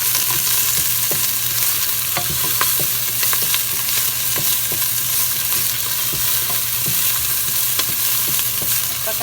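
Onions frying in oil for Filipino chicken sinampalukan give a loud, steady sizzle with crackling pops and occasional scrapes of a stirring utensil throughout, no voices over it.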